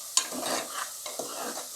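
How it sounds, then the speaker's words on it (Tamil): Sliced onions and green chillies sautéed over a medium flame, a soft sizzle under two scraping spoon stirs in a pan, close and moderately quiet. "வெங்காயத்தை நல்லா வதக்கிக்கோங்க."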